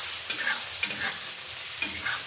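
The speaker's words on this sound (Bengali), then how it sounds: "দুটো শুকনো লঙ্কা দিয়ে ভালো করে আদা রসুনটা ভাজে নিচ্ছি" Ginger, garlic and dried red chillies fry in a pan, a continuous close sizzle broken by several soft scraping stirs of the spoon against the pan.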